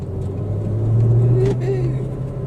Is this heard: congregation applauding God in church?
no